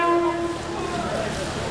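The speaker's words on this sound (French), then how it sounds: "Un petit coup de corne." A short horn blast from a gabare river boat on the Charente, a steady tonal note lasting about half a second at the start, with voices and boat ambience continuing underneath.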